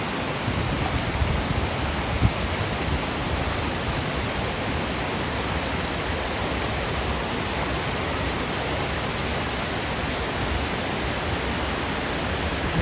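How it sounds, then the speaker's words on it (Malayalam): Water falling at Gordale Scar waterfall, dripping down like rain, heard as a steady, even hiss of spray and splashing that holds without a break from start to finish. "ഇവിടെ വെള്ളം ഡ്രോപ്പ് ആവുന്നുണ്ട് മോറിന് മഴ പെയ്യുന്ന മാതിരി"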